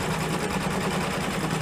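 An embroidery sewing machine stitches a stained glass design onto a stocking, giving a steady, close mechanical whir with a fast even pulse throughout and no voices.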